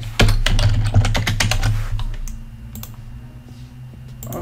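Rapid, uneven keystrokes on a computer keyboard as a username and password are typed in, close and crisp, ending in a short pause and a few last taps, with no voices.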